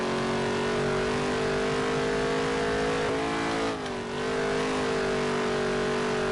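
Steady, loud race car engine drone in a PS4 racing video game, holding a high revving pitch throughout with a brief dip and recovery midway, with no talking.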